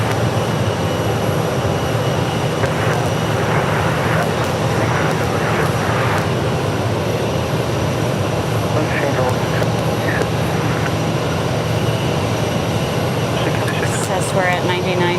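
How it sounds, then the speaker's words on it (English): Delta Airlines flight 891, a four-year-old Boeing 737 arriving from Salt Lake City, comes in at Phoenix Sky Harbor, a continuous engine rumble and hiss with a voice talking over it. "Delta Airlines flight number 891 coming in from Salt Lake City. It's a Boeing 737"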